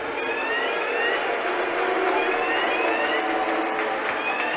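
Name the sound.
fire alarm going off in ice hockey arena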